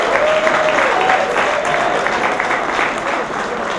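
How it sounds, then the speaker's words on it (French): Audience at a Paris fashion night event breaking into loud, sustained applause, a dense continuous roar of clapping filling the room with a faint tone sounding underneath. "il faut l'applaudir, s'il vous plaît"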